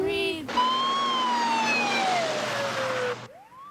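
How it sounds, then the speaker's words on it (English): Ambulance siren on a road, a loud wailing tone that sweeps slowly downward as it passes close, preceded by a short rising whoop and ending abruptly. "they could see the ambulance coming down the road"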